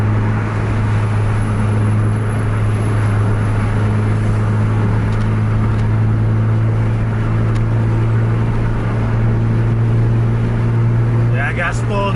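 A KURNI AW UHD bus accelerates at full throttle, its engine a loud, sustained low drone with a steady tonal hum, heard close with people talking over it.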